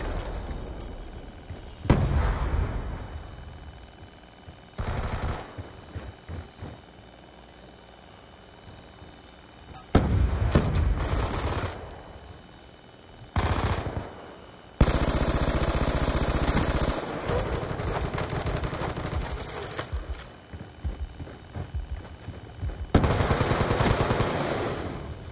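Video game gunfire, with bursts of automatic shots and heavier blasts in loud blocks separated by quieter stretches of background game sound.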